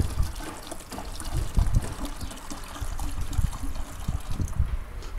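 Diesel cleaning liquid poured into a container, a close, steady trickle and splash that gurgles unevenly for a few seconds with no voices.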